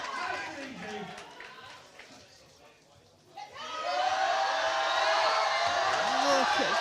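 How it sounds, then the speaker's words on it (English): A crowd at a British Open weightlifting competition rises to its feet, with murmuring giving way to a swelling roar of cheers and whoops that grows loud and sustained, while a commentator talks over it. "Crowd on their feet."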